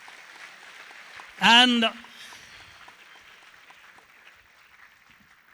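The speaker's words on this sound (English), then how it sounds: "He deserves a thunderous applause" Audience applause for the winning student at the TCS InQuizitive 2024 Bengaluru regional final quiz, a steady, fairly soft clapping texture that runs throughout, briefly covered by a single spoken word near the start.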